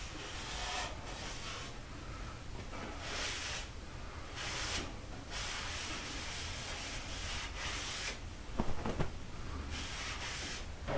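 Rag wiping down freshly stained soft wood, soft repeated rubbing swishes in uneven strokes, close but quiet over a steady background hiss.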